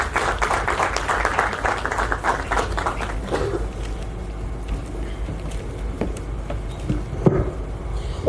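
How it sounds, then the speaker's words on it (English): Guests at a private banking launch event applaud, a full round of clapping for about three seconds that then thins out into scattered claps and room murmur. "please let's give a round of applause to Mr. TP, our MD for NBS"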